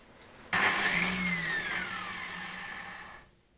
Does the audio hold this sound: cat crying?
no